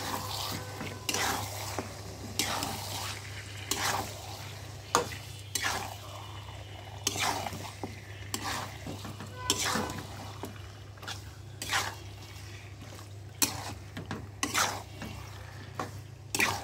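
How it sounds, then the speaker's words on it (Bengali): Meat stir-fried with spices in a pan, a soft steady sizzle broken by repeated scraping stirs at an irregular rhythm, with a low hum underneath throughout. "মশলার ভিতর মাংসটা কিছুক্ষণ কষিয়ে নিব এইভাবে"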